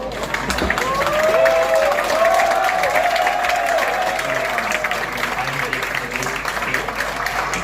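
A crowd watching the Chandrayaan-3 lunar landing applauds and cheers as the third descent phase succeeds, steady clapping under a live broadcast with a voice speaking over it.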